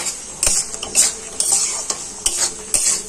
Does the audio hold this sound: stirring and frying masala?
yes